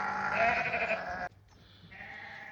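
Yearling ewes bleating in a pen, two loud, wavering bleats from close by separated by a brief pause, the second slightly quieter.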